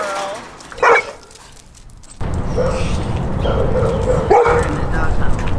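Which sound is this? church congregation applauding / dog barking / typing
dog barking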